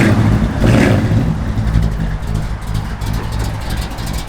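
A 1962 Chevrolet Impala SS engine with a cam runs loud and close, its low rumble rising in a rev near the start and then holding a steady, lumpy idle.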